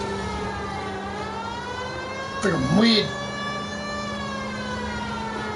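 Police car siren in a PS4 video game, a steady sustained electronic wail holding throughout, with someone briefly speaking over it partway through.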